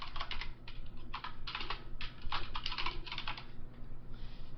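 Password typed on a computer keyboard during Windows Server user setup, quick clusters of close, crisp key clicks with short pauses between bursts and no talking.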